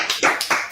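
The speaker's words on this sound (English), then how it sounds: "Clap it up" Four quick hand claps in an even rhythm, close and fairly loud, each short and crisp with brief gaps between.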